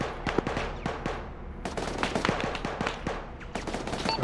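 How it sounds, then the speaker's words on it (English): Heavy machine gun firing in the video game ARMA 3, with repeated sharp bursts and single loud shots cracking at an irregular rhythm over a continuous din of battle, close and loud throughout. "on the rooftop of that building you're in, there's a heavy machine gun"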